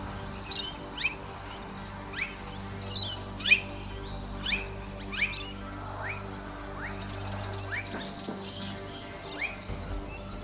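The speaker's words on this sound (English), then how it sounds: "the blue-faced call continuously, for they are also a group bird" Blue-faced honeyeaters calling amid noisy miners around nectar-rich blossoms: a series of sharp, high chirps and squeaky calls recurring every second or so, moderately distant over a low steady outdoor hum.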